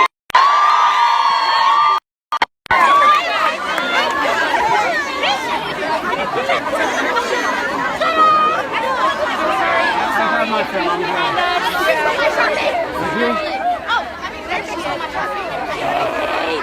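A crowd chatters and calls out while dispersing after a Hillary Clinton campaign event in Ohio, a loud close babble of many voices with a few shouts and whoops, briefly cut off by two short dropouts near the start.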